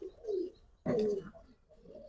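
Pigeons of a high-flying racing breed coo softly in a few low, throaty phrases, one louder burst in the middle, with no talk.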